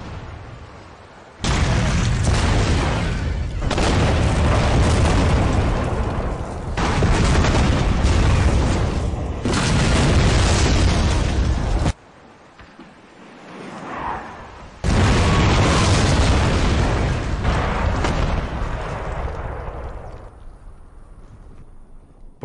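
British gunboats on the Nile at Omdurman exchange artillery fire with shore batteries, heard as long, loud roaring bursts of explosions and booming gunfire in sustained waves, with one brief quieter lull, no voices.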